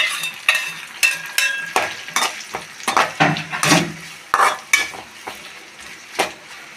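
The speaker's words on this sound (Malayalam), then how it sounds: "അത് നന്നായി വഴറ്റണം പിന്നെ വേപ്പിൻ്റെ ഇല ലേശം ഉപ്പിടാം" Onions sautéing in a pan for chicken curry, with curry leaves and salt: a spoon repeatedly scrapes and knocks the pan in an uneven rhythm over a faint, close sizzle, with no voices.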